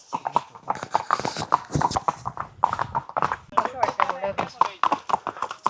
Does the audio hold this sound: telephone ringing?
no